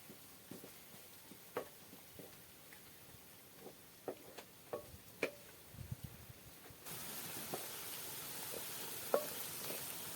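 Faint, steady sizzling of asafoetida, ginger paste and onion frying in oil with scattered crackles and pops, later joined by a louder hiss, with no talking.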